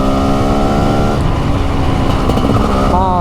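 A TM 300 SMR 300cc two-stroke motorcycle engine revs loudly and close, its raw buzzing note holding steady and then climbing in pitch, while a voice talks over it.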